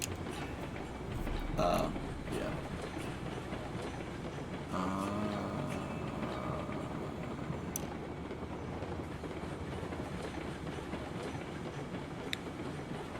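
A train from the Railroads Online video game rolls steadily along the track with a low rumble and faint clickety-clack, punctuated by a couple of brief mechanical clanks and squeals; a voice briefly speaks over it.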